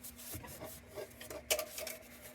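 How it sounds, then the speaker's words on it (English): A bench grinder wheel works lightly against a soft brass tubular lantern, making faint, close rubbing and scraping strokes with a few sharper scrapes, heard alone without talk. "We're putting very light pressure on the bench grinder wheel"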